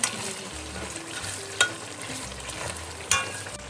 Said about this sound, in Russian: Вот сейчас видно, как мясо зажаривается.